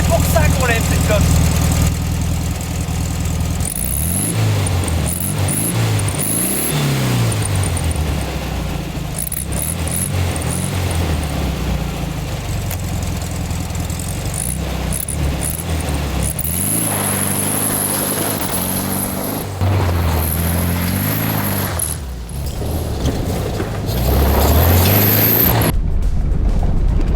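A Volkswagen Beetle modified for off-road runs steadily throughout, its small engine rising and falling in pitch as it accelerates and shifts, with people talking over the rumble.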